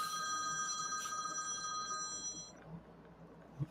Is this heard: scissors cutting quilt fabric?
no